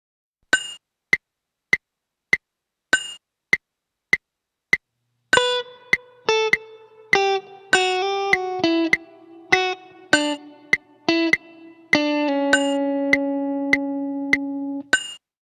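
Steady clicks count in, then a Spanish-flavoured guitar melody plays, with plucked notes over the ticking beat, ending on a held, ringing note.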